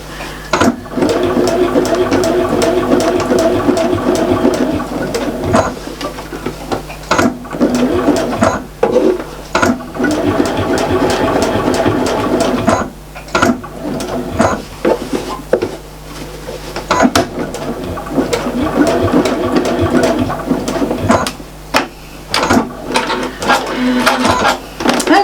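A sewing machine stitches a fabric Christmas tree mat with a loud, close, continuous mechanical whirring hum, briefly stopping and restarting several times.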